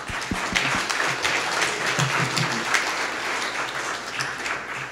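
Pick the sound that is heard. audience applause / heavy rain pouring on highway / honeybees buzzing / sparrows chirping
audience applause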